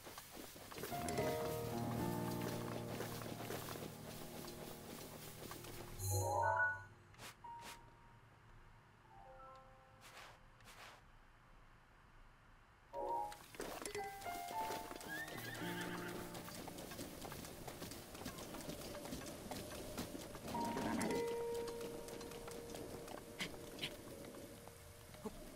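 Horses in The Legend of Zelda: Breath of the Wild whinny and clip-clop, with rhythmic hoofbeats and neighs coming and going, and a quiet break midway.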